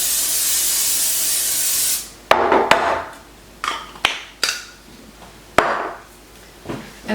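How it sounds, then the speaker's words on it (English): A long steady hiss of cooking spray into a baking pan for about two seconds, followed by clattering knocks and shorter bursts of spraying. "We're going to spray the inside of the pan."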